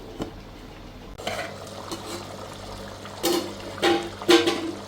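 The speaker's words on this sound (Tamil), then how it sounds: "இடையில கொஞ்சம் இலக்கி விட்டுக்குங்க, இல்லாட்டி அடி பிடிச்சிடும்." A spoon scrapes and stirs through simmering mutton biryani in a cooking pot, a few intermittent scraping strokes with light bubbling underneath, close and moderately loud, no voices.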